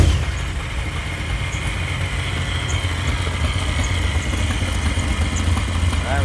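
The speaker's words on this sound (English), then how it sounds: "right now I want to fire the engine up and see if anything we've done so far makes this thing run better" A cheap supercharged Corvette engine runs at a steady idle after being repaired, a loud continuous low rumble with a mechanical whine and no talking.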